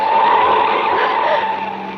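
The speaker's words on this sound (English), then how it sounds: "The car twisted and swerved." Tires skid and squeal as a car swerves hard, a loud continuous screech over engine roar that holds steady for about two seconds before easing slightly, with no voices.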